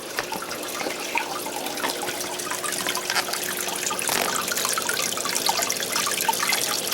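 During a manual water change, an aquarium pump churns and splashes water in a steady, close rush with scattered trickles and gurgles, and no voices.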